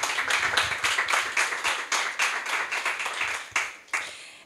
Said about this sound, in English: So maybe we can put our hands together for a warm applause for this nice panelist.